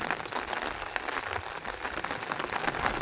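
Steady rain falling in a village, a dense even patter on surfaces that continues without pause, close and moderately loud.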